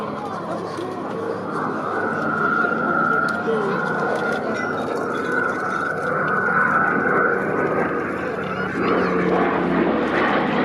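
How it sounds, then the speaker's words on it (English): A Hawker Hurricane fighter, the last one built, flies over an airshow at East Kirkby, its propeller engine droning steadily through the whole stretch while a commentator talks over it. "day by Flight Lieutenant Charles Crofty, and she was the last ever Hurricane built, rolling off the production line at Langley in July 1944"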